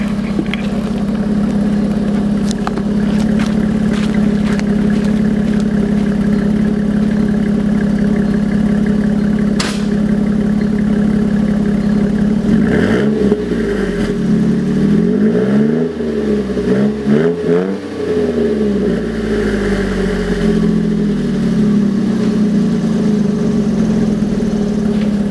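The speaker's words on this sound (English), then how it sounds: "Got a nice throaty sound to it. I say at idle, it almost sounds like a V8." A 2009 Jeep Wrangler Rubicon with a replacement exhaust idles with a deep, throaty rumble, close and loud. Midway through, the engine revs briefly in a few rising and falling swells, then settles back to a steady idle.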